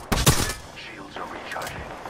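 Apex Legends gunfire, a quick burst of close shots at the start followed by fainter firing, with voice lines and game sounds over it.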